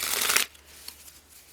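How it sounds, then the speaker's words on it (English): A quick riffle shuffle of tarot cards makes a short, crisp flutter of card edges, then stops, leaving faint room sound and a small tap. "One more shuffle for Pisces and all those who love Pisces"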